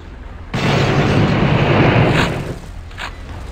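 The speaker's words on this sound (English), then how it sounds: "I blew up my dynamite." A single dynamite blast in the Blood video game, a loud, broad roaring explosion bursting in suddenly and holding for about two seconds before tailing off into a faint rumble.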